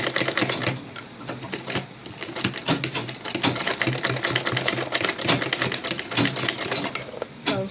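A sewing machine stitches a fashion tote bag in steady, rapid mechanical chatter, running almost continuously with brief pauses, close and loud.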